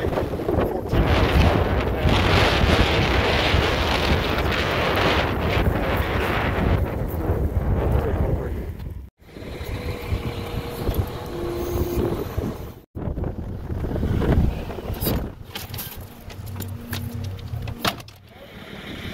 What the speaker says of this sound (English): It turned out to be quite a windy day.